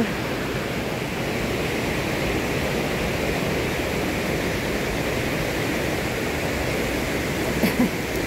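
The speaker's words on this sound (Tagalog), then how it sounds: "Naririnig nyo naman yung ilog." Steady broadband rush of a river flowing in the Alps near Méribel, Savoie, a constant even roar with no breaks, loud and close.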